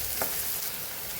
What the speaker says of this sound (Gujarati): એને આપણે સાતળી લેવાનું છે